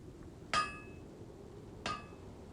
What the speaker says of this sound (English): He won't stop banging on that hammer